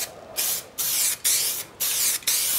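An aerosol spray paint can hisses onto the dashboard of a classic Mustang, Comet or Falcon with the windshield removed: four or five steady, close bursts, each about half a second long, separated by brief pauses.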